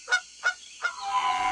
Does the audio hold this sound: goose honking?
yes